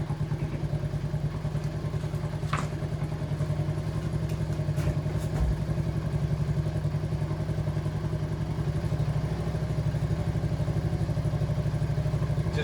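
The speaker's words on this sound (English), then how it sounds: "Just turning up the idle a little bit." A Honda DAX ST50 motorcycle engine idles close by with a steady, even putter and light mechanical clatter, running alone without talk.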